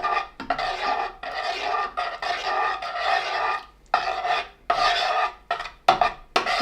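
Rose-scented handmade soap being scraped, close and loud, in repeated rough rasping strokes of about a second each, separated by brief pauses, with no talking.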